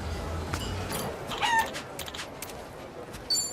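A chicken in Like a Dragon: Infinite Wealth gives a few short clucks, sharp and fairly close, over quiet game ambience.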